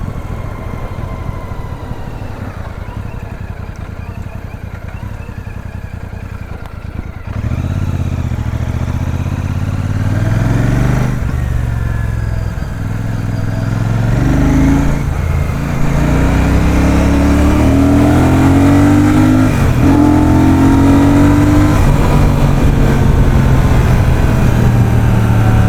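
A Royal Enfield Super Meteor 650 motorcycle engine heard while riding, a loud continuous drone that deepens and rises as the bike accelerates through the gears, with wind rushing throughout and no talking.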